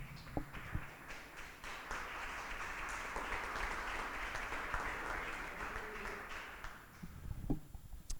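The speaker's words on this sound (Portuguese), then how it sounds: "dê um aplauso ao Senhor" A church congregation applauding the Lord during a service, a sustained, moderately distant round of clapping that swells and then tapers off, with a few louder knocks at the start and end.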